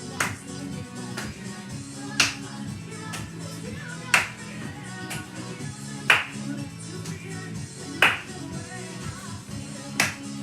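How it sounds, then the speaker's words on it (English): Sharp single hand claps in a Latin dance fitness class, spaced roughly two seconds apart in a steady beat over continuous background music. "Do that clap around the body."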